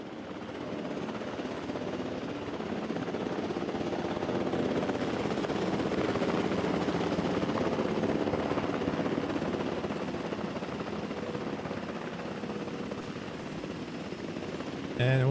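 A helicopter ferrying dinosaurs in the Jurassic World Evolution 2 park-building game gives a steady, continuous rotor drone that holds at an even level for about fifteen seconds, with no talking.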